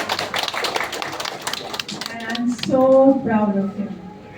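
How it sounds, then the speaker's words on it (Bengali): Crowd clapping at a public event for actor Ferdous, a dense patter of hands under a man's speech, followed by voices and cheering near the end. "তার জন্য ওর একটা জোরে হাততালি হোক"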